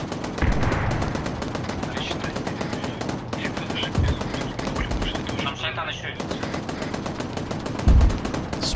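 Rapid automatic gunfire from a military shooter game, ArmA 3, crackling in dense bursts through most of the stretch with a few heavier booming shots, while voices talk over it.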